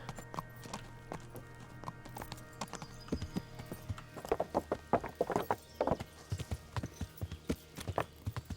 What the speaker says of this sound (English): Olena is my horse.